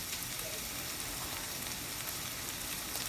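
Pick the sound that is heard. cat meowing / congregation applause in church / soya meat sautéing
soya meat sautéing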